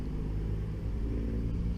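A DR10 RC car runs with a steady, loud motor rumble that holds evenly throughout, with no voices.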